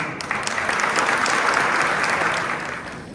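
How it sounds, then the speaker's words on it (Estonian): Sustained applause from an audience at a community culture and sports awards evening in Audru, a steady dense wash of clapping that swells and fades slightly over a few seconds, fairly close and loud with no voices over it. "olid Tuuli ja Tiia, nii et aplaus ikkagi neile"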